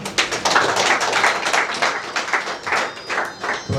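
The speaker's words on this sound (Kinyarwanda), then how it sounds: "mu ntiza amashyi tubanze dushimira abageni" Applause for the bride and groom at a civil wedding ceremony in Rwanda: a steady crowd of hands clapping together at close range, dense and continuous for several seconds with no talking.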